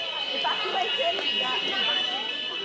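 Fire alarm sounding inside an airport terminal building, a steady high electronic tone running continuously throughout, with crowd chatter and voices underneath.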